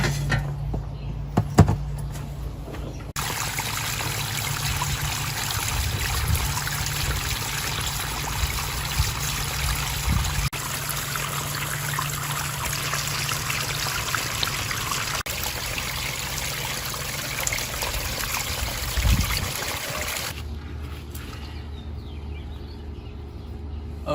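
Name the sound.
water trickling down backyard pond waterfall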